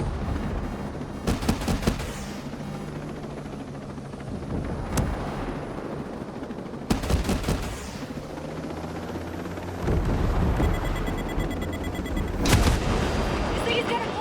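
Gunfire and explosions in the shooter game Ghost Recon Breakpoint: sharp, loud bursts crack out at irregular intervals over a constant rumbling background, with a few heavier blasts standing out.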